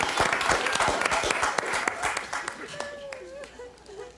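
Studio audience applause on a hidden-camera comedy show, dense clapping throughout with voices talking over it and a few tonal whoops near the end.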